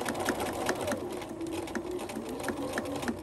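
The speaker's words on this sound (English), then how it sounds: "I'm continuing to sew, checking to make sure that I'm still sewing on the purple fabric on the other side." A sewing machine runs steadily, stitching purple fabric for a zipper pouch body, with a fast even mechanical chatter and regular ticking clicks, close and moderately loud without talk.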